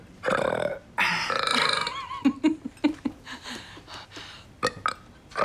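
A loud, drawn-out burp from a man, followed by a string of shorter bursts and gulps mixed with chuckling, all close and prominent.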